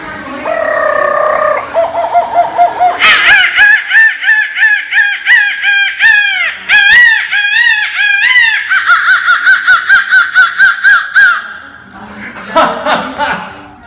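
A handheld bird call mimics a rooster's crowing in a salon, with loud, rapid, warbling squawks and clucking bursts in quick repeated series, close and dominant, with a voice briefly at the end.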